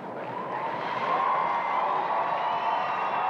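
Large arena crowd at the Westminster Kennel Club Dog Show in Madison Square Garden cheers and roars for Kirby, the dog in the ring; a steady, dense wash of voices and applause holds the whole time without any clear break.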